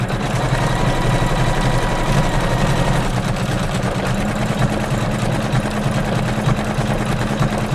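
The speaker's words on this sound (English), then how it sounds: "I'm going to hit start now, and it's going to start doing that decorative stitch." An embroidery sewing machine stitches a decorative leaf stitch on a Kimberbell quilted pillow block, a loud, steady mechanical hum with rapid needle chatter running continuously, close and without talk.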